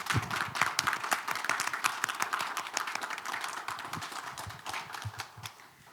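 Applause of thanks from the audience at a Korean immigration history talk concert, scattered and fairly quiet hand claps that continue steadily before thinning out.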